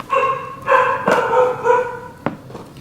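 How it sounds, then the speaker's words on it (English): Several dogs bark indoors, close and loud, in a quick run of barks and yips that trails off into a few scattered woofs, with no talk over them. "Sorry for the dogs."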